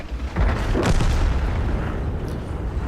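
A tank cannon fires in World of Tanks, one deep booming blast that swells quickly and rolls out into a long rumbling decay.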